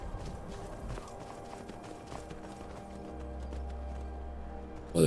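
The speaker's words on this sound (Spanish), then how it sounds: "Vamos a caballo un poco." A horse gallops in Skyrim, with a steady rapid clip-clop of hooves over a continuous low rumble of game ambience and music, fairly even in loudness throughout.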